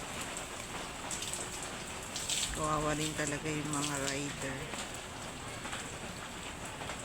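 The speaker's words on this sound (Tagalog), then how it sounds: "Hirap talaga pagka ganitong umuulan." Steady rain pours down on a roadside shelter where motorcycle riders wait out a downpour, a constant broadband hiss throughout, with a person talking over it in the middle.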